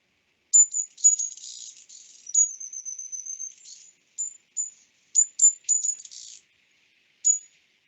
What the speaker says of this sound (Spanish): Es el clásico sonido de un búho.